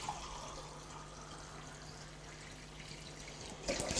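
Hot water poured steadily into a large tray used for grilling fish and vegetables, a continuous close rushing splash lasting several seconds before a brief louder clatter at the end, with no talking.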